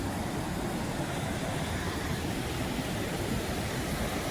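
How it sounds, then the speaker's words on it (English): Rushing water pours over the falls at Sioux Falls park, a steady, dense roar that holds an even level throughout with no voices. "I want to capture some of the water out here."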